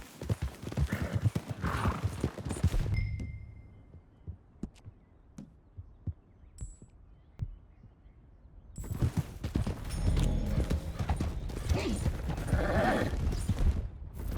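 Horses galloping and pulling a stagecoach in Red Dead Redemption 2, their hooves clip-clopping quickly. The hoofbeats are loud at the start, thin out to a few quieter beats in the middle, then return strongly toward the end.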